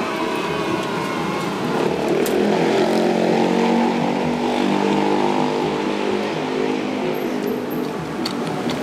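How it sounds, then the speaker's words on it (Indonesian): A vehicle with a loud aftermarket exhaust passes on a street, a sustained droning roar with harmonic engine tones that swells and holds for several seconds, close and prominent, with no talk over it. "Kenapa sih orang-orang suka banget pakai knalpot yang berisik?"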